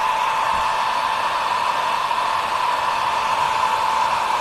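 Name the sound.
heat tool drying a junk journal piece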